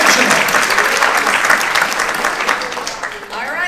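An audience at a seniors' talent show breaks into a burst of steady, loud clapping that holds for several seconds and then gently tapers off.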